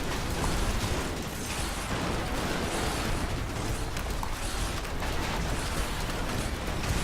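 Buildings blowing apart in the Mars-set video game Red Faction Guerrilla: a dense, continuous roar of explosions and crumbling debris with grinding mechanical rattles, loud and unbroken throughout.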